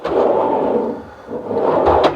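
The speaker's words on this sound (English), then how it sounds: "Now we're just going to put the drawer in." A wooden drawer in a rustic DIY pantry cabinet slides in with a low rumbling scrape, pausing briefly before a final push and a soft knock as it closes, close and fairly loud.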